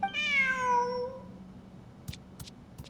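Cat meowing in Genshin Impact, one clear drawn-out meow up close, followed by a few faint, sharp clicks and taps in a quiet background.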